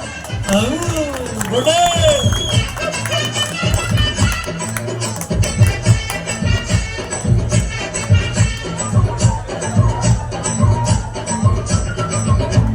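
An audience claps along at a Tamil stage show while music plays, with steady rhythmic clapping and crowd noise running throughout under a sung melody and voices.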